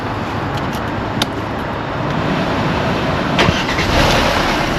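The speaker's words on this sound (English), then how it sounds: "Start the car" A Mercedes with a fault, its codes just cleared, starts up: a steady engine rumble settles in at close range, with a couple of sharp clicks and a small rise in level partway through.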